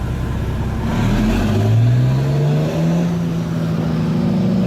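A Komatsu HD785-7 dump truck engine revved up to about 1800 RPM, a loud close diesel roar whose pitch climbs smoothly and then holds steady at high revs.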